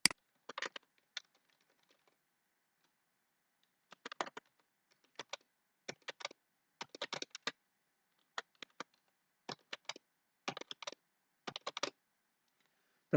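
A computer keyboard clicks in short bursts of rapid keystrokes as a password is typed, with pauses between groups, close and crisp in a quiet room.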